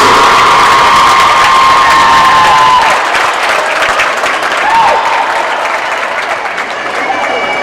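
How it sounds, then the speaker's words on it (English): A crowd at a competition awards event applauds and cheers for the seniors, with loud sustained clapping, whoops and shouting that gradually eases. "give them a big round of applause"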